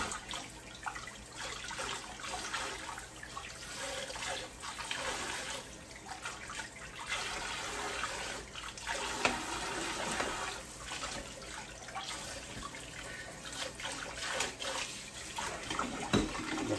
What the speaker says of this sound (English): I can spray the meat off quick.